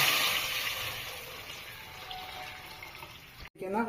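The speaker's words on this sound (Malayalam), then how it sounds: "വെള്ളം ഒഴിക്കുക" Water pours steadily into a biryani pot for prawn biryani, a close, continuous rushing splash that cuts off abruptly near the end, followed by a brief voice.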